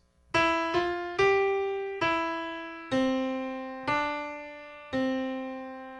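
A short, quiet piano phrase of seven single notes in a simple rhythm, each note ringing and decaying, played alone.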